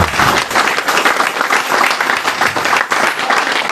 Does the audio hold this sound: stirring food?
no